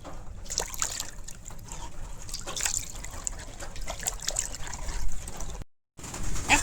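Bamboo shoots being rinsed by hand in water two or three times, with a steady close trickle and gentle splashing of liquid, no voices, briefly cut off near the end.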